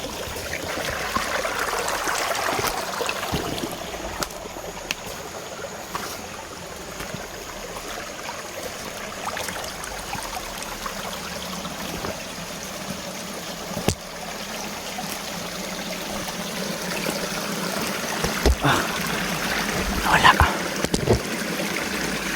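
Water flows and trickles steadily in the background with occasional splashes and soft knocks, outdoors and moderately loud throughout.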